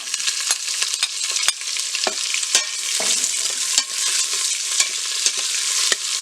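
Chopped onions frying with whole spices in hot oil and ghee, a dense continuous sizzle broken by repeated spatula scrapes and taps against the pan, close and fairly loud with no talking.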